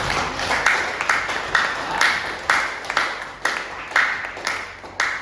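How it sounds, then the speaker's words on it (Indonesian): An audience at a training and sharing session claps together, with a series of distinct rhythmic swells of hand claps rising and falling roughly once per second at moderate loudness. "Mari kita tepuk tangan semua"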